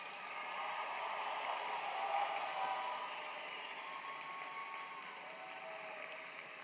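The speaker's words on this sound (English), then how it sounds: "one big round of applause for all of our 2026 graduates" Applause for the 2026 graduates at the Bert Church graduation ceremony, a steady crowd clapping that fills the hall for several seconds at moderate distance, swelling slightly in the middle and then holding level.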